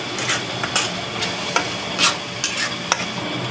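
Prawn gravy masala is stirred and sautéed in a pan, giving a steady frying hiss broken by repeated scraping strokes of a spoon at close range, with no voices.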